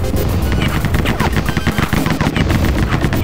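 Loud rapid rifle gunfire from the first-person shooter Rise of the Triad, a dense continuous automatic burst filling the whole stretch with no talking.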